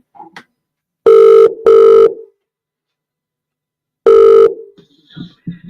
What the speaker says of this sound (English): we'll just give Johnny a wee phone and see how that game's going for them just now